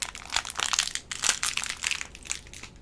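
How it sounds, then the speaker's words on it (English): Crinkly plastic vinyl being peeled away and crumpled up close during weeding, a steady run of crackling bursts with no talking. "the crinkly sound of vinyl"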